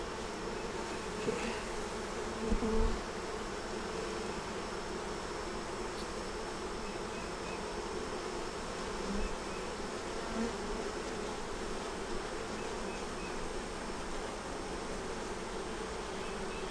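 Honeybees hum steadily around an open hive during a brood inspection, a dense, continuous buzz with a few louder passes of bees close by and no voices.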